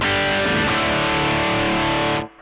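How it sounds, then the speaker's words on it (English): An electric guitar plays through a Trex Dual Drive distortion pedal, a loud, thick sustained distorted chord ringing for about two seconds and then cut off abruptly, with no voices. "To me, this gives you a more vintage sounding distortion."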